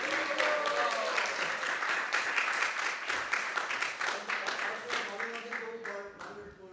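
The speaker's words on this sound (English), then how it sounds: "Please give them a big round of applause." A temple audience at a devotional celebration applauds bhajan and kirtan singers, a full round of clapping that thins into scattered individual claps, with faint voices and cheers mixed underneath.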